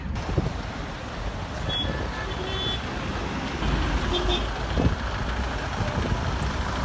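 Busy street traffic in Nouakchott, Mauritania with no traffic lights, a dense continuous roar of cars and trucks close by, with a few short horn beeps cutting through.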